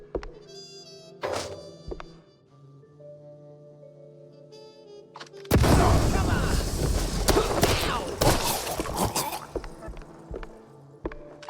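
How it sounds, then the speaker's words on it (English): Firecrackers exploding in a wooden attic in the Mouse: P.I. For Hire video game: a sudden loud burst of crackling, popping blasts that keeps rattling on for several seconds after quieter game sounds. "Pretty sure the fire department frowns on stuffing firecrackers into wooden attics."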